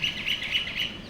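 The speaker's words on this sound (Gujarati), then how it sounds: "કબૂતર તો ઉપર ઉડે છે." Birds around a family home where pigeons gather and fly overhead give four quick, evenly spaced chirps, moderately close, with no speech.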